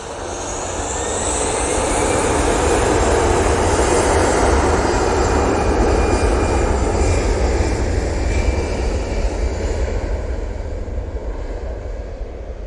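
A jet airliner taking off and rotating at Manchester Airport, its engine roar loud and broadband, building over the first seconds and holding strong with a high whine, no talk.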